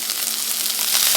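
Frozen salmon sizzles in a hot pan, a steady, close, loud crackling fry with no voices over it.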